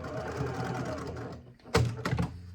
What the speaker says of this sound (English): I could go to the machine right now and just put a stitch across those